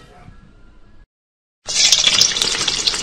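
A kitchen tap abruptly gushes water loudly after a brief silence, following a stretch of faint background noise, in a home kitchen where turkey stew is being cooked.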